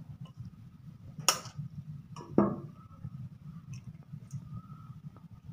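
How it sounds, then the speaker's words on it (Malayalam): Eggs cracked into about 350 ml of milk for a simple egg pudding: two short cracking taps about a second apart, followed by faint clicks over a steady low background hum. "ഫ്രണ്ട്സ്, നമുക്ക് ഈ മുട്ട എന്നതിലേക്ക് പൊട്ടിച്ചൊഴിക്കാം."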